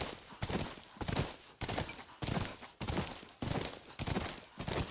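Horse hooves clip-clopping at a steady, rhythmic pace while riding in The Last of Us on PS3, at a university, with repeated loud thudding beats and gritty texture between them.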